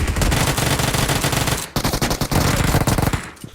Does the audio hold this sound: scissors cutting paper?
no